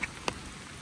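Rain-fed water pours down a park waterfall in the upper Pacific Palisades, a steady, faint rushing hiss that runs unbroken and sounds somewhat distant.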